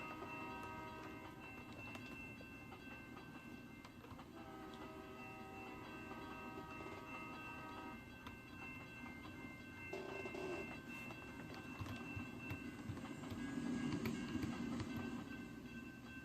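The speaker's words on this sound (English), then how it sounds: "Yeah, this train's flying right through here." A video game train passes at speed, rumbling continuously, its wheels clattering and a low mechanical roar growing louder toward the end, with no voices.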